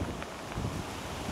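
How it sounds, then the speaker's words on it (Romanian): Strong wind at a carp-fishing lake, a steady loud roar and buffeting rumble across the microphone with faint rustling, no voices. "Bate vântul destul de tare"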